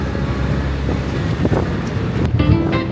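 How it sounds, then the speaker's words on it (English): Gusty wind buffets the microphone on a beach while riding in a small boat in the Philippines, a steady broadband rush with bumps and a low droning hum near the end, no speech. "It's more windy today, you know?"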